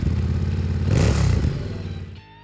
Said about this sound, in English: The bike also gets a shorter and wider exhaust that adds a slightly more aggressive soundtrack to the motor.